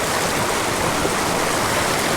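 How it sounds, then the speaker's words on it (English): Water rushing steadily over small waterfalls in a steep mountain stream, a dense, continuous broadband roar with no pauses, close and fairly loud, no voices. "we've got some pretty steep water right there, some little waterfalls"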